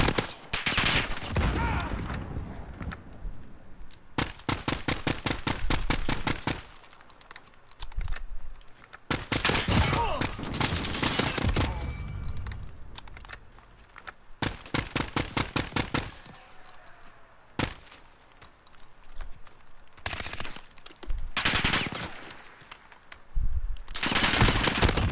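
Bursts of AN-94 assault rifle fire in Call of Duty: Modern Warfare, loud rapid clusters of shots separated by short pauses, repeating across the stretch with occasional single reports.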